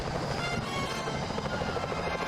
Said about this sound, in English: Careful, Fly. Those security choppers are bad